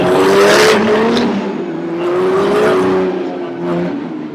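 Race car engines rev in a pit lane at an Austrian circuit, Aston Martin and Porsche among them: a loud, rough, sustained engine roar that swells and fades, heard close with no talking over it.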